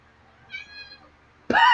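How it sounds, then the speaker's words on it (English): An orange cat gives a single short meow at a door indoors, faint and brief, followed by a person starting to speak. "The cat just meowed at the door."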